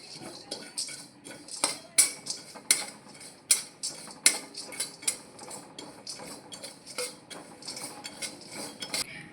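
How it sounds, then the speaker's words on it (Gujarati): A spoon stirs and scrapes poppy seeds roasting in a metal pan for khajur pak, with steady clinking and knocking strokes close by and no talking. "અને તેમાં આપણે થોડા ખસખસ ઉમેરી દઈશું તેને પણ આપણે થોડીક વાર શેકી લેશું"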